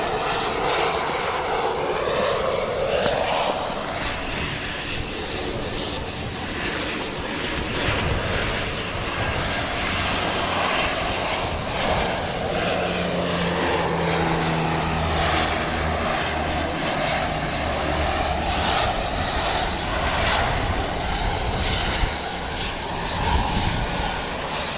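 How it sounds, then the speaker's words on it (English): A Dash 8 propeller aircraft from Nelson landing at Wellington Airport, a loud sustained engine roar with a buzzing propeller drone that holds steady throughout, unaccompanied by voices. "Just waiting for a little dash 8 from Nelson"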